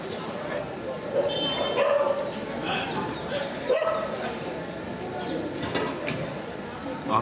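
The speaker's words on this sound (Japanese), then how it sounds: "ここガンジス川のすぐ近くなんですけど、犬が今僕が確認できるだけで12匹ぐらいいます。" Street dogs bark near the Ganges in Varanasi, India, a pack of around a dozen yapping in a territorial squabble, with busy street noise and voices talking underneath.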